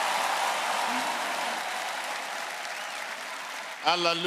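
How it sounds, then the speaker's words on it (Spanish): A church congregation applauds in a steady, dense wash of clapping that fills most of the stretch, fading slightly before a voice cuts in at the end. "¿Quién está aplaudiendo ahí?"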